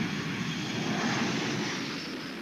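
A passenger airplane flying from Moscow to Rome in summer 1957, heard as a steady, even engine roar that holds at a moderate level throughout, with no voices.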